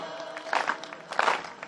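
An audience at a Hindi comic poetry gathering claps in light, scattered bursts, two fuller swells of applause rising briefly then fading, fairly faint and close.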